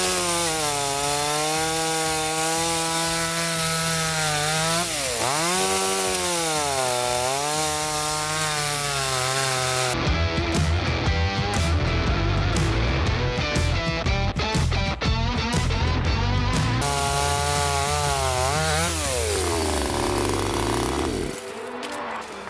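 A small StartPro petrol mini chainsaw idles and revs up and down close by, then bites into dry deadwood with a loud, rough rasping whine before easing back to idle.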